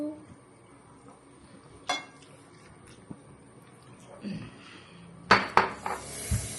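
Plates and cutlery being handled during an Eid al-Adha meal at home, with scattered clinks and sharper clatters that grow busier toward the end, over quiet background talk.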